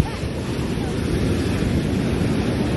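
Ocean waves wash steadily along the La Union shore, a continuous broadband rush with some wind buffeting on the microphone and no clear speech.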